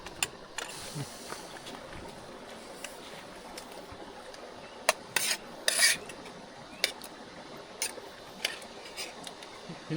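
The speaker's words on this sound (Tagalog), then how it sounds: "Hinalo niyo yung itlog." Eggs stirred in a metal pot at a riverside mountain motocamping site: scattered sharp clinks and scrapes of utensil on metal, with a brief rattling cluster in the middle, over a low outdoor background.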